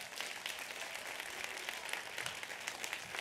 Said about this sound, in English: give a round of applause if you have enjoyed the conference thus far